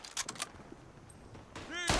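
Gunfire in a Tannenberg video game battle, a few scattered distant shots early on followed by a louder close blast at the end, with a voice speaking over the scene.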